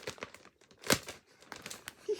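Yarn parcel packaging being torn open by hand, a run of crinkling, rustling plastic with one sharp louder rip near the middle, close up and fairly quiet with no talking.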